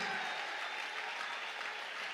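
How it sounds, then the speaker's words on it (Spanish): Church congregation applauding during a Spanish-language evening worship service, a steady, dense wash of clapping held at an even level throughout with no distinct voices on top. "Alguien aplauda la fidelidad del Señor."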